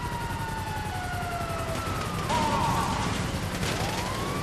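A police siren from the game GTA Online wails at a distance, its sliding tone rising and falling under a steady wash of game noise and engine rumble, faint rather than close.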